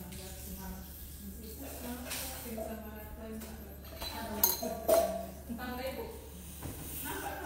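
Dishes and bowls clink as empty bowls are handled at a home meal of sambal belacan, fried salted fish, tofu and tempeh, light scattered clinks heard under ongoing conversation.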